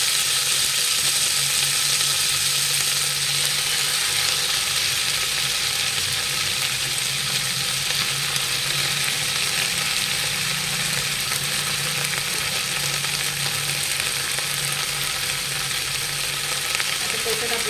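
Small green chillies fry in hot oil in a pan, a steady, loud, even sizzle that runs unbroken throughout, with a low mechanical rattle underneath.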